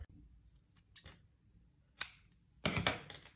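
A few sharp scissor snips cutting crochet yarn, quiet and close, with a crisp double cut near the end and no talking.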